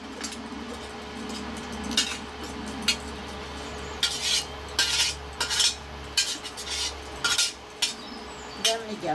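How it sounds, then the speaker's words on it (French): Gambas emptied into a pan of sauce, heard as a run of close metallic scrapes and clinks of a utensil against the pan, coming in irregular bursts over a low steady background hum. "Je vais hop, vider dans mon pan de sauce"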